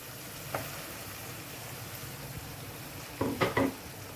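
Tomatoes and gongura leaves fry in a pan with a low, steady sizzle. A few scraping stir strokes come near the start and a cluster of them toward the end, with no talking.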